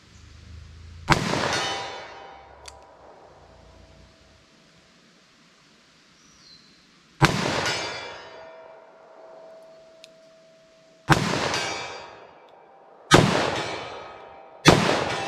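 Four single-action .357 Magnum handgun shots fired outdoors, each a loud sharp crack with a ringing decay, spaced several seconds apart with quiet between them.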